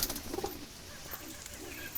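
Jalali pigeons coo faintly and repeatedly at close range, low murmuring calls that rise and fall against quiet background noise.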